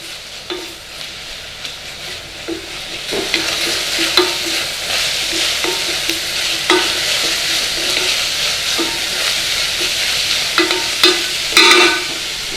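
Garlic and onion fry in a pan for a quick marinara sauce, a steady bright sizzle with repeated scraping strokes of a spoon stirring through it, growing a little louder and busier toward the end.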